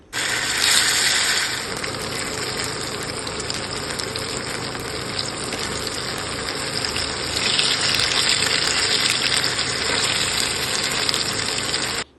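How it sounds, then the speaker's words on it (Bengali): Papaya-made paneer pieces frying in hot oil, a loud continuous hissing sizzle that holds steady for about twelve seconds, close up and alone without any talk. "চলুন এবার আমি ভেজে নেব পনিরগুলোকে তেলে"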